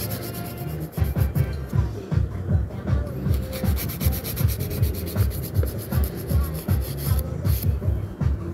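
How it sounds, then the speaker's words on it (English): Steady rhythmic rasping of a 180 grit nail file bevelling the free edge of a nail, close and fairly loud, short back-and-forth strokes repeating throughout with no talking. "with the 180 grit file, just bevel the free edge really gently"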